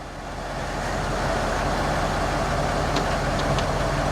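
A Range Rover L405 idles, a steady broadband engine drone that fills the space after start-up, with faint clicks near the end and no talk.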